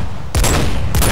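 Two loud, close gunshots ring out about half a second apart, each with a booming tail, as a player fires at a rake creature inside a huge cave in a video game.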